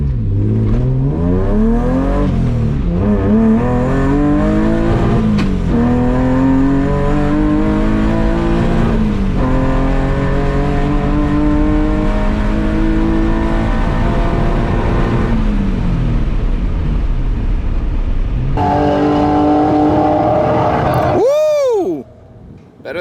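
An M3-swapped BMW E30 on a drag strip pulls hard through its gears, the engine note climbing and dropping at each shift across a long run. It sounds loud and sustained from inside the car, ending in a sharp rising whine.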